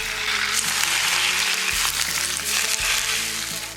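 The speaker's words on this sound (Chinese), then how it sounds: "放入蒜末、辣椒面，烧好的热油浇上去，" Hot oil poured over minced garlic and chili powder for a noodle dish, giving a loud, steady, close-up sizzle that crackles for about four seconds without any talk.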